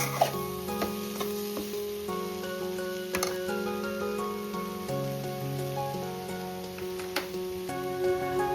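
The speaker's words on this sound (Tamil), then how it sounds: "சின்ன சின்ன துண்டுகளாக நறுக்கி அதில் வந்து ஆட் பண்ணி நல்லா வதக்கிக்கணும்." Small coconut pieces sizzle steadily in a hot pan, with scattered clicks and taps of stirring over the continuous frying hiss.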